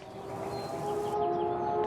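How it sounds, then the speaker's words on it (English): A sustained mining-blast warning siren blares with a steady, slightly wavering tone, holding loud and continuous throughout. "suddenly we hear a siren blare"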